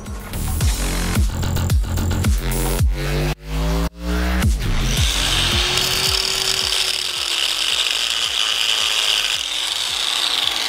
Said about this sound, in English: He's currently using a Sawzall.